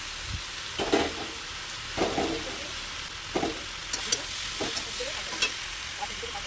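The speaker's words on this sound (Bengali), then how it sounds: "মশলা দিয়ে ভেজে রাখা মাছের মাথাটা দিয়ে দিলাম" Vegetables and a spiced hilsa fish head sizzle steadily in a hot pan while a utensil stirs and scrapes at intervals of about a second, close and moderately loud.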